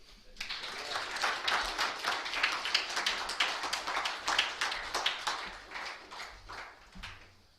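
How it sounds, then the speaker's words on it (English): Audience applause for a stand-up comedy performer, steady dense clapping from a mid-sized room that swells and tapers over several seconds, with no talk over it. "Another round of applause"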